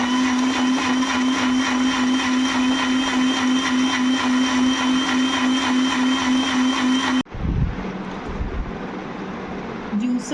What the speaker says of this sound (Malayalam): ഇത് മിക്സിയുടെ ജാലിട്ടിട്ട് അടിക്കാൻ വേണം.